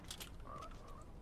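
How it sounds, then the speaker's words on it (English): A frog in the video game Fortnite gives a quick croak, a brief tonal call sitting over soft game ambience, heard alone without any voices. "Why is there a frog?"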